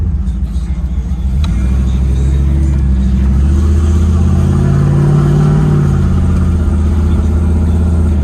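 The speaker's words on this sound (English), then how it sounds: "It's got some sort of aftermarket exhaust on it, so you can definitely sound it better" A 1991 Chevrolet Camaro Z28 with an aftermarket exhaust rumbles loud and close, a deep continuous throaty drone that swells slightly as it drives.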